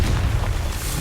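Confringo fire spell explosion in Hogwarts Legacy, a short loud booming burst with deep rumble, heard alone for a moment.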